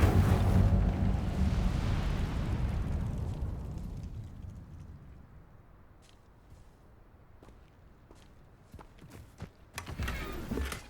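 An Incendio fire spell cast in the video game Hogwarts Legacy, heard as a loud whooshing roar that slowly fades over several seconds, followed by scattered small clicks and crackles and a brief rising burst near the end.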